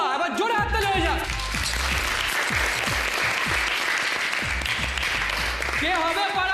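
A studio audience at a Bengali TV contest for the neighbourhood's best daughter-in-law bursts into loud, dense applause that holds steady throughout, with brief musical or vocal tones at the start and end.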